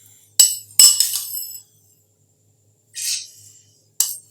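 Metal spoon clinking against a pulao pot while adding sugar for a vegetable pulao: a few sharp bright taps and scrapes close up, then a pause and two more clinks.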